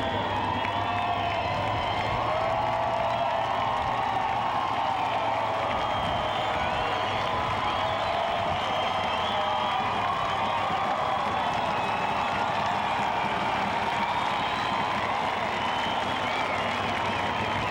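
Sprint car race crowd along the backstretch at the 2001 Knoxville Nationals cheering a victory lap, a steady, dense roar of shouting and applause that fills the whole stretch without a break.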